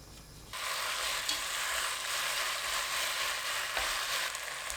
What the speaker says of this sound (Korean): 참기름 1큰술 넣고 센 불로 1분 30초 볶아주세요.